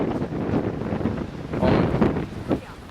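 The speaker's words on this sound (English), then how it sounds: "The wind's blowing." Strong blizzard wind buffets the microphone in loud, rumbling gusts, surging and easing over a few seconds, with no voices.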